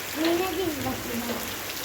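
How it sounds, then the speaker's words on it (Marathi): Steady hiss of heavy rain fills the background outdoors in Malvan, Konkan, while a voice speaks briefly over it near the start. "जोरात पाऊस आला आहे"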